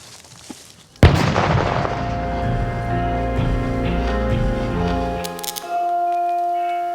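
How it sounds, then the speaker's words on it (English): Controlled explosion blowing up an object: a sudden loud blast after a brief quiet moment, then a long ringing, rumbling decay that fades into a lingering tonal hum. "Let's blow it up."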